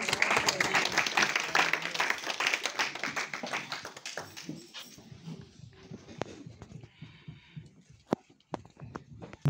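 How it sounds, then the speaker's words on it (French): A church congregation applauding, a loud dense burst of clapping that thins into scattered, fading claps over several seconds with a few isolated claps at the end. "Est-ce qu'on peut acclamer cette parole?"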